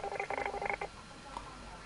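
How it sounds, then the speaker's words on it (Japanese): A telephone is dialed: a quick run of short keypad tones in the first second, fairly faint, followed by quiet. "もう一回電話してみたいと思います"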